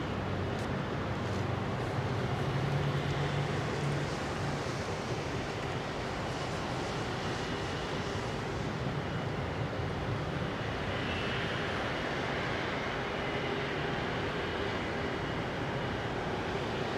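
A Qantas airliner taxis to its gate at London Heathrow, a continuous broad jet-engine roar heard from a distance, steady throughout with slight swells and no talking.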